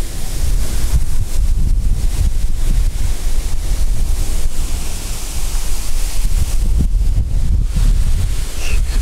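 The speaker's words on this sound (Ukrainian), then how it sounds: "Дивіться на цю будку, як вітер здуває." Strong, squally storm wind batters a fishing shelter, a loud, constant roaring rumble of buffeting microphone wind with gusty surges and no pauses.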